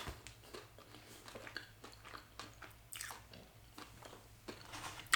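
Close, crunchy bites and chewing of a vegan cinnamon sugar doughnut with a crunchy brown sugar cinnamon topping, repeated crackly chomps in a steady rhythm and no talking.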